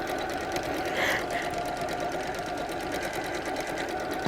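Close up, a sewing machine hums and patters rapidly while stitching around the edge of a fabric heart, running steadily without pause, with faint talk underneath.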